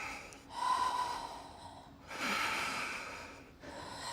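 Heavy breathing during an arms and power flow workout. Two or three long, close, rasping breaths come in strained waves with short pauses between them, and there is no talking.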